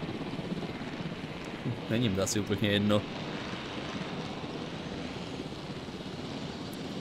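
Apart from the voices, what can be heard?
helicopter flying in video game Jurassic World Evolution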